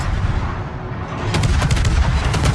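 Warship naval guns firing in the World of Warships video game during a battle at Omaha Beach, heard as a dense rumbling barrage with a burst of sharper crackling blasts midway, loud and continuous.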